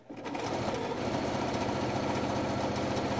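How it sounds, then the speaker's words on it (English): A sewing machine stitches binding onto a quilt, running at a steady fast buzzing rhythm after a brief start, close and continuous throughout with no talking. "put my needle down, and sew this on"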